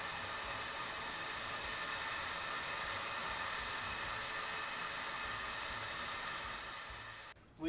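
A heat gun switched to its low setting blows hot air steadily over heat shrink tubing on a soldered wire of an RC sailboat, a loud continuous hiss that runs unbroken and cuts off near the end.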